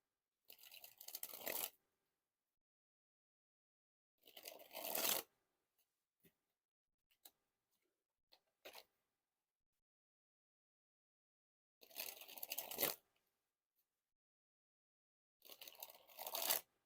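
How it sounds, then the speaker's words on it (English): A deck of Blue Fontaine playing cards is dribbled by hand in four quiet, brief riffling bursts, each about a second long, separated by pauses that hold a few faint clicks. "now to dribble the cards"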